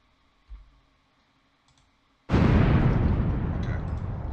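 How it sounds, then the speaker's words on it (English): A game bomb in Unreal Engine 4 goes off as one loud, sudden blast that rumbles on and decays slowly. A faint click comes just before it. "I'm just going to play a bomb for mine"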